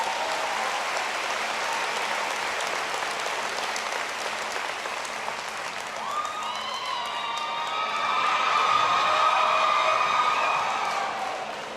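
A large crowd at a town hall meeting with President Obama in North Carolina applauds steadily, then swells with cheers and high whistles partway through, loud and sustained.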